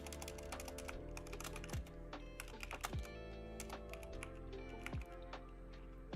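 Typing on a computer keyboard, a close, steady stream of quick clicking keystrokes with irregular rhythm over a constant low hum, with no voices.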